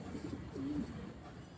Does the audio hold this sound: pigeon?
yes